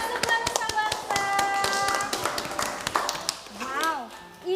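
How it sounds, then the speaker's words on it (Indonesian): Children and an audience clap for kindergarten pupils of TK Sukma Nusa Bangsa on a children's stage show: a brisk, irregular patter of hand claps, fairly close, mixed with voices talking and calling out. "Beri tepuk tangan dong untuk teman-teman dari TK Sukmanusa Bangsa."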